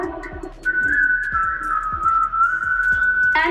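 A whistled melody from a Snow White song: a long, steady, clear whistled tone carried over a light rhythmic musical accompaniment, fairly loud and continuous for most of the moment.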